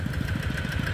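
A new Kubota M6240 tractor engine idles with a steady low throb and quick regular pulses, close and continuous with no talking.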